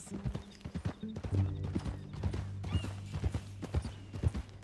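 Steady clip-clop of horse hooves walking in Red Dead Redemption 2, with harmonic tones under the hoofbeats and an occasional faint snort.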